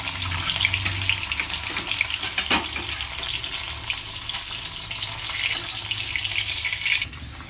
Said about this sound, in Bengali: এখানে তো পনিরটা ভাজা হচ্ছে,